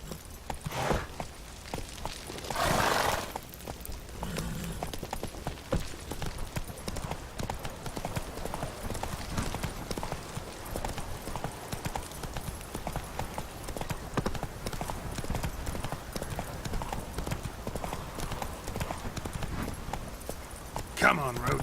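Steady galloping hoofbeats from Roach, the horse in The Witcher 3: Wild Hunt, drum in a fast, even clip-clop throughout, with a short whinny-like burst early on and speech over the top.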